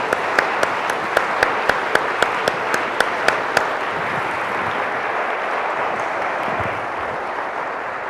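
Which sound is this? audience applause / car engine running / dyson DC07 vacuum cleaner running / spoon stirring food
audience applause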